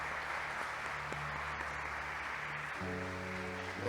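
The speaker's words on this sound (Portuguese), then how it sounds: "pode dar uma salva de palmas ao Senhor Jesus?" A church congregation applauds steadily in a dense, sustained wash of clapping, with organ or keyboard chords sounding beneath it and shifting near the end.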